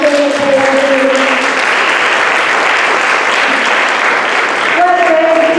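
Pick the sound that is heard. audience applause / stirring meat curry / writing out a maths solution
audience applause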